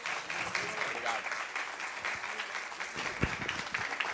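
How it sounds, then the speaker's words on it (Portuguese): Journalists applaud in a press conference auditorium, a steady patter of clapping from many hands that carries on throughout, with a few louder claps standing out near the end. "do Diego, muito aplaudido por todos os jornalistas presentes aqui no auditório"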